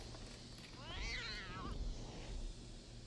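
Gary the snail from SpongeBob meows like a cat inside a video game level, a single rising and falling wavering meow in the middle of the clip over steady game background noise.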